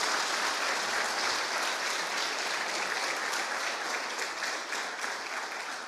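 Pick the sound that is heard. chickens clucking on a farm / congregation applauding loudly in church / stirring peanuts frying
congregation applauding loudly in church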